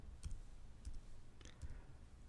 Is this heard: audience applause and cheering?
no